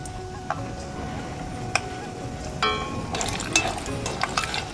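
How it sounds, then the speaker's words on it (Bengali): Peanuts fry in hot oil inside a metal strainer, giving a steady close sizzle with scattered sharp clicks and taps that grow busier toward the end; no voices. "বাদামগুলো আমি ভেজে নেব এরকম স্ট্যানারের মধ্যে ভেজে নেব"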